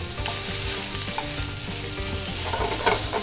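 Fresh tuna and shrimp frying in olive oil in a pan, a constant close sizzle with intermittent stirring and utensil scrapes, no talking.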